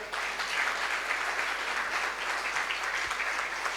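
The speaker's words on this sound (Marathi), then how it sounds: "त्यांच्यासाठी आपण टाळ्या वाजवूयात" A church congregation applauding fathers standing during a Father's Day Sunday service, steady dense clapping from many hands throughout, fairly loud and continuous with no talk over it.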